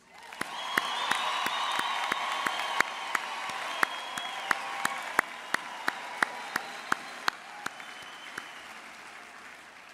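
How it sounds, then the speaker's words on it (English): An audience at a graduation ceremony for the class of 2023 breaks into sustained applause with cheering and ululation, a dense steady roar of clapping with sharp individual claps standing out throughout. "please join me in congratulating this esteemed class of 2023 with your loudest ululation and a resounding round of applause"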